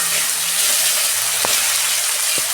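Garlic and ginger hit a pan of deeply fried onions, giving a steady broadband sizzle with a couple of brief spoon knocks, close and moderately loud, no talking.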